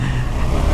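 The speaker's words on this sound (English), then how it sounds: "Open the throttle here and there." A KTM 390 Adventure motorcycle's single-cylinder engine revs as the throttle opens, a loud, steady engine drone filling this short moment without any talk.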